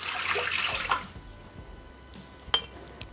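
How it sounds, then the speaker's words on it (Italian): Water splashes briefly into a Thermomix mixing bowl, a short close pour at the start that fades, followed by a faint clink. "Iniziamo la ricetta mettendo all'interno del boccale l'acqua"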